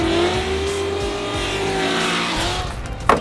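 A Formula DRIFT ProSpec E46 BMW drift car with an 800-horsepower ethanol-fed engine and manual gearbox roars steadily at high revs, tires squealing throughout, with a sharp crack near the end.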